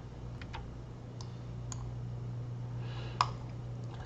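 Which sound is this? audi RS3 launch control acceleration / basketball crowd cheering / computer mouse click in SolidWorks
computer mouse click in SolidWorks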